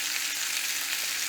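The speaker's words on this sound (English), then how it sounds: "Frying on the other side for another 4 minutes." A steak, stuffed with smoked mussels, fries in a pan with a steady, hissing sizzle that stays even throughout, with no talking.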